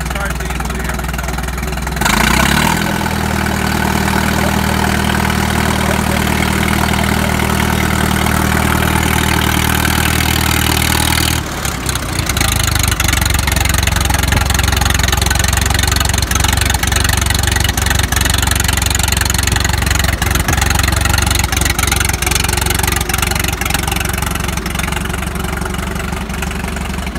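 A Farmall F20 cane tractor engine cranks and catches after about two seconds, then idles with a steady low, loud chugging throb that changes pitch around eleven seconds and continues close by.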